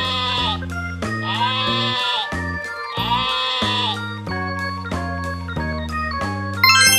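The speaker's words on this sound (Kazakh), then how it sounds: "Дұрыс таптың, бұл қойдың дауысы." A sheep bleats twice, close and clear, each a wavering nasal cry, set against a bouncy background music track that keeps playing between and after the calls.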